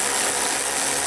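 Bolts on a windshield washer reservoir of a 2013-2016 Dodge Dart being tightened with a hand ratchet, a steady rapid clicking close to the microphone over a hissy background, no talking.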